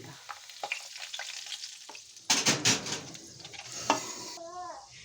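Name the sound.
whole spices frying in hot oil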